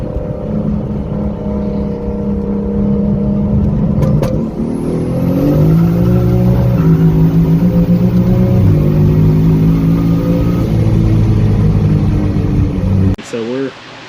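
2JZ-swapped BMW E30 with a DCT gearbox on a dyno: a loud engine drones and revs in rising, stepped sweeps through a long pull, with a brief drop and pop near the end; a voice talks over it.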